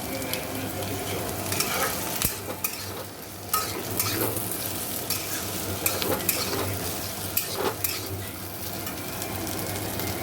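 Black cumin and dried red chilies frying in a pan, a continuous close sizzle broken by irregular stirring scrapes and light clinks of utensil on metal.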